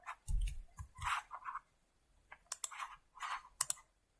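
Computer keyboard shortcut keys are pressed in short clusters of clicks and taps, close and crisp. The clusters are separated by brief silences.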